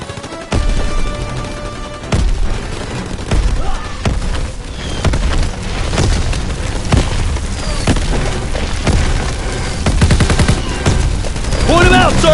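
A Call of Duty battle with repeated loud gunshots, bursts of machine-gun fire and booming grenade explosions in dense succession, with shouted voices mixed into the chaos.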